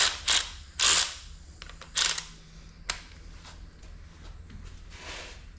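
A 3/8 ratchet clicks on a PT Cruiser engine during valve cover gasket and spark plug work: a few loud, quick bursts of ratcheting early on, then softer scattered clicks in a quiet garage.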